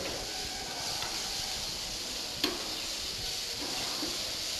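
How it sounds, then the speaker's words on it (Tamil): Tomatoes sauté in a pan with a steady close sizzling hiss that runs the whole way through, broken by one faint clink, and no talking. "பார்த்தீங்கன்னா தக்காளி வந்து வதங்க ஆரம்பிச்சிருச்சுங்க"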